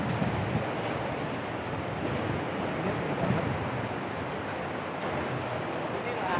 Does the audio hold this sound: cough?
no